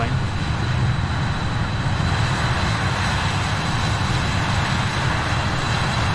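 Simulated BAe 146 jet engines in flight in Microsoft Flight Simulator 2020, a loud, constant broadband roar with a low rumble and a thin high whine, unbroken and steady throughout.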